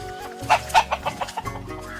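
Chickens clucking while resting in the shade on a farm, a run of several short clucks spaced about a quarter second apart at close range, with no talking.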